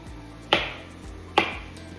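A knife rough-chops potatoes on a cutting board for a large batch of mashed potatoes for shepherd's pie, striking twice with crisp, sharp chops spaced under a second apart, close and clear with no talking.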